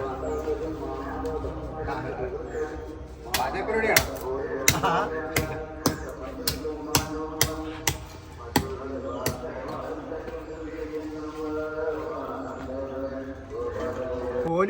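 Knife chopping raw plantain (nendran banana) on a board, a run of sharp close taps spaced about half a second apart, with talking and kitchen background around it.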